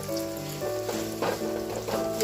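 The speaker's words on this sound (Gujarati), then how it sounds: "ઘી તપી ગયું છે, એની અંદર આપણે ગોળ નાખી દેવાનો છે।" Jaggery dropped into hot ghee for winter gundar pak sizzles and crackles steadily at close range, a continuous frying hiss with a faint tonal hum underneath and no voices.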